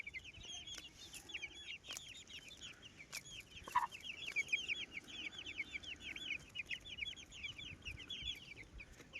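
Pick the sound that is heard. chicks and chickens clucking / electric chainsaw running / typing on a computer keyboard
chicks and chickens clucking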